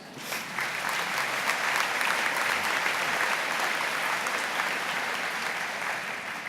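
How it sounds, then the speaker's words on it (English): A commencement audience gives the professors a steady round of applause, dense clapping of even loudness heard at moderate distance that runs on without a break. "let's give them a round of applause"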